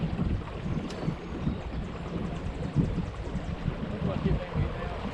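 Small fishing boat motoring across Glenn Springs Lake, a steady low engine rumble mixed with wind buffeting the microphone and water rushing past, continuous and close.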